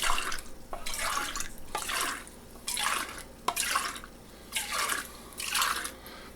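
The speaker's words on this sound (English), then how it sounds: "So you swish it back and forth." Water sloshing back and forth inside empty cans to rinse them out, heard as repeated rhythmic swishing surges about once a second, close and moderately loud, with no speech.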